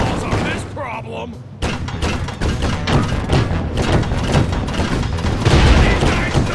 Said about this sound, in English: Time to drop some cannonballs on this problem!